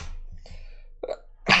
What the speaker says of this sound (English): I'm going to sneeze very hard in a second.